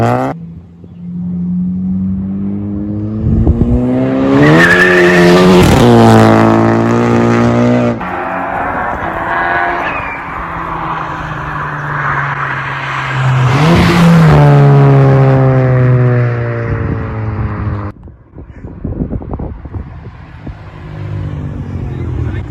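Volkswagen MK6 GLI with a big turbo revving hard outdoors, loud rising engine pulls that climb, drop with a shift and surge again, then cut off into a brief pause and quieter sounds.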